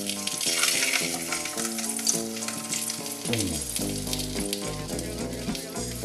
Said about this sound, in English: you're gonna fry the tortillas lightly